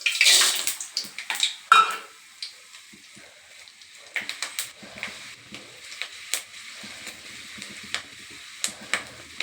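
Chana dal, urad dal and peanuts sizzle in hot oil with mustard seeds, a bright crackling hiss that is loudest at the start and then settles into scattered pops and spits.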